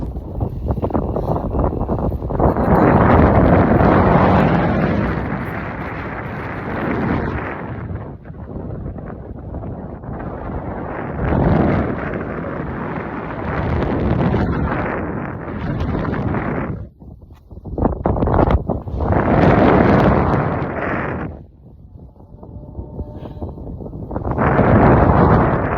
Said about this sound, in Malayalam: പക്ഷെ കാറ്റ് ഒന്നും പറയാനില്ല, പൊളിക്കാറ്റ് ഉണ്ടായിരുന്നു.